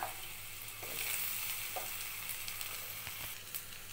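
Potato and eggplant pieces fry in hot oil for a Bengali helencha shak pakora recipe, giving a steady close sizzle with scattered crackles and pops throughout.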